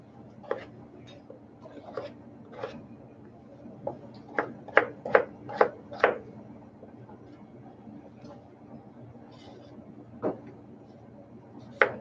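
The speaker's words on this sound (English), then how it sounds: "And then the sticks get diced." A knife dices vegetable sticks on a cutting board for chowder: irregular sharp taps, bunching into a quick run of chops midway, then a few scattered cuts, close and fairly crisp over a quiet room.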